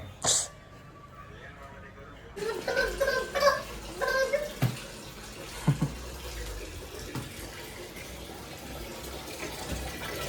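Water runs into a new washing machine at home, a steady faint rushing flow beginning after a brief pause, with people talking and a few clanks over it.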